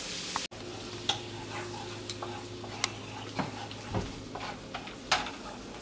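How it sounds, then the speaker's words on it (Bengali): Cardamom and cinnamon crackle and sizzle in melted butter in a pan for suji halwa, with scattered sharp pops and ticks over a low steady frying hiss, plus an occasional clink of a utensil. "আমি বাটারের মধ্যে এলাচ এবং দারুচিনিগুলো দিয়ে দিলাম।"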